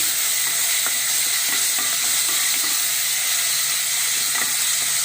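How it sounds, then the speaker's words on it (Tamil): A single tomato sautés in a pan for coconut milk pulao, giving a loud, steady sizzle and hiss with scattered clicks and scrapes of stirring throughout. "நல்லா வதங்கி வருது இப்போ தக்காளி ஒரே ஒரு தக்காளி"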